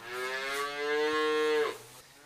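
A single long, loud moo from a cow on a fourth-generation cattle farm in Surrey, rising and then falling off, heard close with faint background noise.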